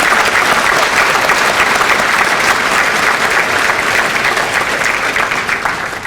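Loud, sustained applause from an audience at a police department employee of the year awards ceremony, thick steady clapping filling the room and tapering slightly at the end.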